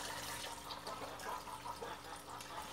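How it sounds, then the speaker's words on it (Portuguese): Water poured quickly into a bowl of chick feed mash, a steady broadband splashing and trickling that runs unbroken and fairly close throughout, with no talking. "Vamos acrescentar água, tá?"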